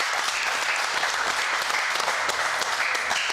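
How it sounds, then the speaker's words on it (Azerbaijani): Sustained audience applause for a performer at a stage show, dense steady clapping throughout with no voices over it. "Ürəkdən alqışlayaq sənətkarımızı."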